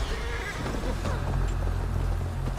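Horse whinnying in the video game Assassin's Creed Valhalla, set in a nighttime siege of Paris, a single drawn-out neigh over a steady low rumble of background ambience.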